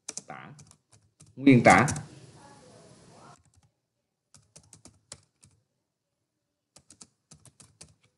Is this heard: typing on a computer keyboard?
yes